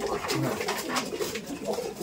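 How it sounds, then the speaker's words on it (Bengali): Black pigeons coo in soft, low repeated calls, with several birds overlapping close by amid a steady background of chatter-like noise. "কালো দোবাজ। কালো দুবাজ এটা।"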